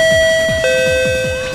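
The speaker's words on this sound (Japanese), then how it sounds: "これ絶対家のチャイムやん。" A long doorbell chime, played as a sound effect in an animated quiz show, rings out clearly and loudly with sustained bell tones over a rhythmic low pattern, no voices.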